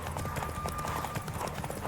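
Horse galloping in the Witcher 3 video game, a rapid, continuous clip-clop of hooves over steady background game sound.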